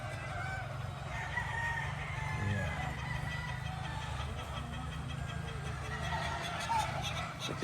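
Gamefowl roosters crowing and clucking at feeding time, a flock of birds calling repeatedly at close to middle distance over a steady background hum, with someone talking intermittently.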